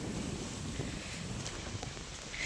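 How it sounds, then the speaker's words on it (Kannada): Strong wind buffeting a microphone outdoors in a village, a steady low rumble and rush of air throughout. "ತುಂಬ ಗಾಳಿ ಇದೆ."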